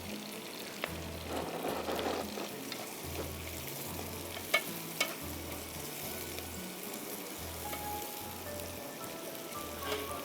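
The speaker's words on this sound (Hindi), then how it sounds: "इसको हम थोड़ा सा भूनेंगे और साथ में हम इसमें टमाटर डाल देंगे।" Spices and tomatoes frying in oil for a biryani gravy, a steady close sizzle with rhythmic stirring and occasional scrapes and clinks of a spoon against the pan, no voices.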